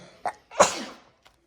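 A single person sneezes sharply indoors, preceded by a quick inhaled catch, loud and close with nothing else around it.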